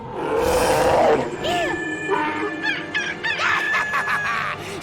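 A cartoon bear lets out a short, loud roar, followed by squawking, warbling cartoon effects and bursts of clucking, with no speech.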